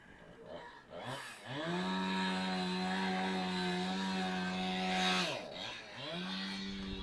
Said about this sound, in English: I guess the chainsaw is just across the street.